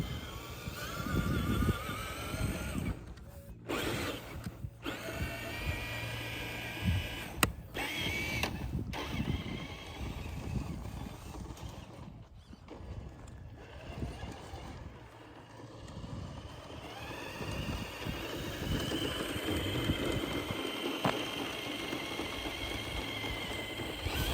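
A Traxxas TRX4 High Trail Edition RC truck drives along on its first run, its electric motor whirring steadily under shifting mechanical noise and rising and falling throughout, with no speech.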